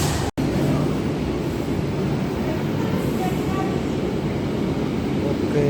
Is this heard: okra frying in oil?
no